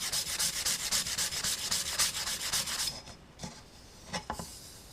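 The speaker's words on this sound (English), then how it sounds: "So just sand them over." Sandpaper rubs back and forth over burrs on a store-bought part, a close, steady run of rhythmic scratchy strokes that slows into a few separate passes near the end.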